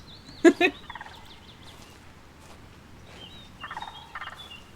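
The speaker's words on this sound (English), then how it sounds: "do you hear those bird calls? I think they're bird calls." Bird calls sound in the fantasy video game Book of Travels, a sharp double gobbling cry followed by scattered, softer warbling calls against a quiet background.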